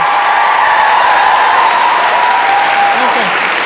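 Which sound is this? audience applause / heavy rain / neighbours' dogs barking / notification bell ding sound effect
audience applause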